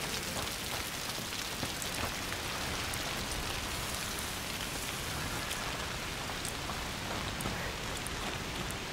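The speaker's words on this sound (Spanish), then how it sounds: "Ok, está lloviendo, que bien." Steady heavy rain in the video game A Plague Tale: Requiem pours continuously, a dense hiss with scattered drops pattering, unbroken throughout and with no voices.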